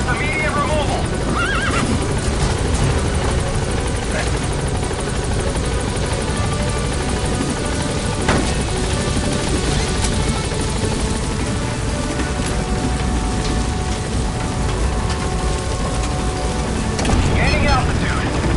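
A support helicopter in the Metal Gear Solid V video game hovers near a landing zone, its loud rotor wash constant throughout, mixed with horse whinnies and hoofbeats, rain, and spoken radio dialogue over the top.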